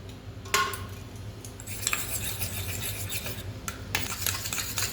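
An omelette egg mixture with turmeric powder and salt gets beaten in a bowl, with rapid scraping and rasping utensil strokes that come in bursts over a low steady hum. No voices.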